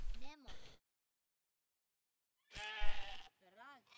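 Sheep in the video game Dawn of Man bleating before slaughter, two clear close bleats separated by a pause, with a fainter third call trailing at the end.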